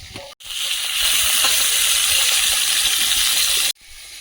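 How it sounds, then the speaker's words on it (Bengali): Boal fish fries in hot oil with a loud, steady sizzle and crackle that holds for about three seconds, cut off sharply at both ends, with no voices over it. "মাছ ফাটছে"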